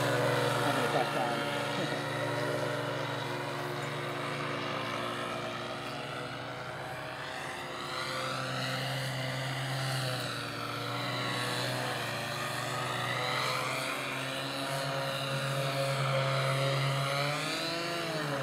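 An OMP Edge RC model airplane with an OS 55AX engine flies at a club field, its engine drone steady and rising and falling in pitch as it passes, with people talking over it throughout.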